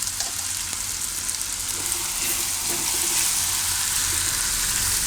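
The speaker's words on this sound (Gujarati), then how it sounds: "આ બધું મિક્સ કરી દેવું." Ground spices (turmeric, salt, red chili and coriander-cumin) sizzle and fry in a pan as they are stirred, a steady bright hiss with faint scraping underneath.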